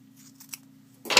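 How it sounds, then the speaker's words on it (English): Scissors trim a quilting paper piece close to the fold, a single crisp loud snip at the end after a few faint ticks over a low steady hum. "I trim that fairly close to the fold"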